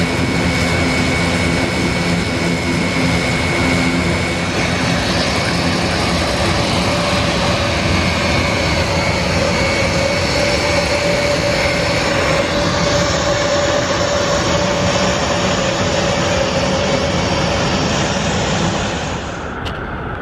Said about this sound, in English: Here we go then, folks, with the A400M departure.